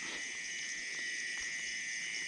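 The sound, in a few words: mole cricket chirping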